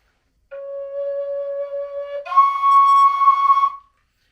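A Linden Native American flute plays two clean sustained tones, a lower note held about two seconds then stepping up a major third in the lower register, pure and breathy with faint overtones, solo and close.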